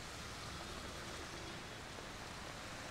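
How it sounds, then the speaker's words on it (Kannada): Heavy rain pouring down in Bengaluru, a dense, even hiss of drops hitting surfaces, constant and unbroken, faint and distant, with no voices. "ಬೆಂಗಳೂರಿನಲ್ಲಿ ತೀವ್ರವಾಗಿ ಮಳೆ ಸುರಿತಾ ಇದೆ"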